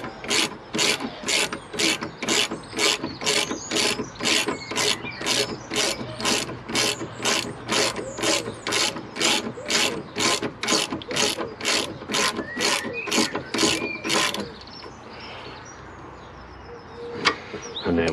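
A ratchet spanner turns a 17 mm nut on the rear trailing arm of a Mini R50/R52/R53, clicking in a quick, even run of about two dozen close ratchet strokes before stopping, followed by quieter handling noises.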